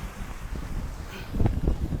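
Gusty wind blows across a Lake Michigan beach with blowing sand, a rough buffeting rumble against the microphone that swells and thumps stronger toward the end of the short burst.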